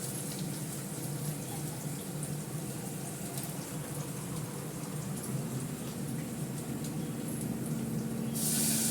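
Water pours into a cooking pot of egg biryani as a continuous, close splashing hiss that lasts several seconds and swells slightly louder near the end.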